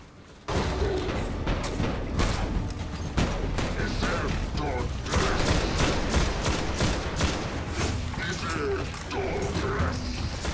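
Weapons fire in the Destiny beta during a boss fight: dense, rapid volleys of shots with mechanical clatter, loud and continuous throughout.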